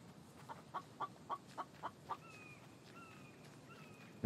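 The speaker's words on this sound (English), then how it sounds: "Oh, chicken." Short series of six soft clucks from a chicken in the survival video game The Infected, evenly spaced, followed by a few thin whistling bird chirps over a quiet outdoor ambience.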